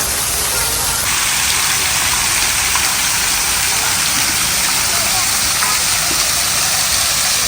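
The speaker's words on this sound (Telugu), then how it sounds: "వాటర్ ఫౌంటైన్లో సూపర్ అనిపిస్తుంది" Water splashes steadily from a fountain at a temple entrance, a loud, dense, continuous rush that holds constant throughout with no pauses.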